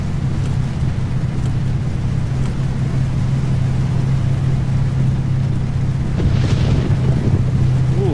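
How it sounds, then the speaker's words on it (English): A thunderstorm in the truck driving game 18 Wheels of Steel rumbles as a continuous low roar under a steady engine drone, loud and unbroken, with a brief swell near the end. "Ooh, it's a nasty storm."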